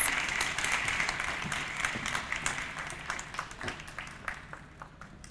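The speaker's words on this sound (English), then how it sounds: "Can we just have another round of applause for that powerful, powerful sharing of going off script, right?" Audience at a workforce and economic development achievement celebration applauds, a soft, dense patter of many hands at moderate distance that slowly thins and fades.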